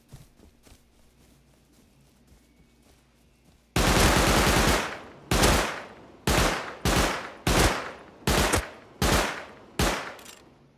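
Gunshots from the survival game Rust ring out after a quiet stretch: one long loud burst, then a rapid series of separate, evenly spaced heavy shots, close and dominant, with no talking.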